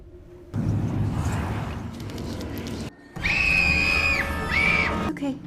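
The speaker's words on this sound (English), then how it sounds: "suddenly she screamed hysterically" A young girl screams hysterically in a shop, long shrill wails breaking out in two loud bursts after a stretch of muffled, noisy commotion.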